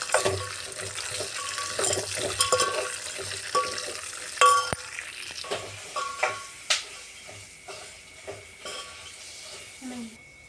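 Cooked rice being mixed with ghee and turmeric by hand, soft wet squishing and stirring sounds with a few sharper knocks, close and fairly quiet, with faint kitchen background noise.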